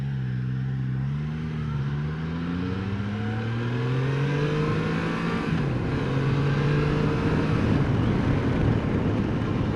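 A Triumph Tiger 660 motorcycle being ridden on a summer road, its engine note droning steadily with gradual pitch rises through the gears and constant wind rush, loud and continuous throughout with no talk.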